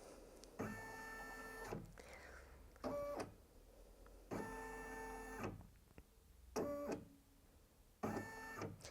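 Brother Innov-is F540E embroidery-only machine tracing a design outline, moving the needle without stitching: a series of short, buzzing motor whirs in regular bursts separated by brief pauses, close by and moderately loud, with no talking.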